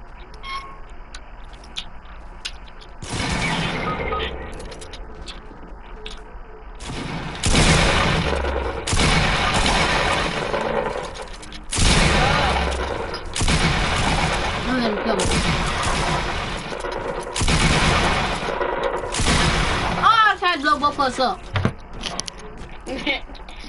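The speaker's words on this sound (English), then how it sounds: "I got a machine gun." Video game machine gun fire comes in long, dense bursts of rapid shots, loud and close, separated by brief pauses, with players' voices talking and shouting over the action.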